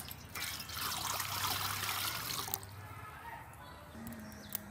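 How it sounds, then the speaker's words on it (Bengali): Water poured into a pan for cooking soya chunks, a rushing trickle for a couple of seconds that fades into soft dribbling and a few faint clinks, close and moderately quiet. "দিয়ে দিচ্ছি জল"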